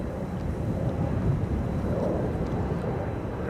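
Jet aircraft departing Amsterdam Schiphol Airport, a steady broadband engine roar with low rumble, fairly distant and continuous, mixed with wind noise on the microphone.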